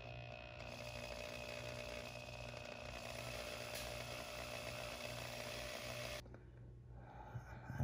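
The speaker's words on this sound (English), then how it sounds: "As I'm drilling this, it's actually spinning the bolt." Power drill boring into a stuck bolt that begins spinning and backing out of its hole, a loud steady motor whine with grinding for about six seconds before cutting off into quieter room noise.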